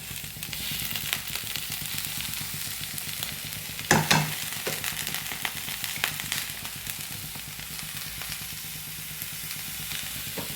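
Golden shower (konna) flowers frying and being stirred in a pan, giving a steady sizzle with scraping stir strokes and a louder clatter about a third of the way in.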